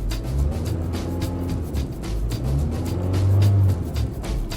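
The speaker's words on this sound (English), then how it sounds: "Now go ahead and rev it up, Fernando." Honda Accord engine revved in neutral, rising and falling in loud surges close by, with a stronger push toward the end and a low steady rumble underneath.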